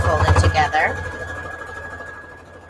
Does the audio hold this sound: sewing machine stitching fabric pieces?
yes